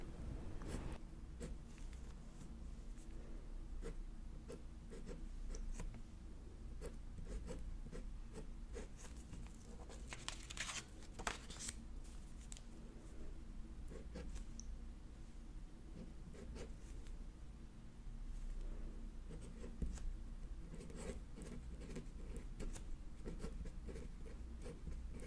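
Pen writing Japanese kanji by hand on paper, a steady scratchy scrawl of strokes over soft background hiss, with occasional brushing and rubbing sounds and no talking.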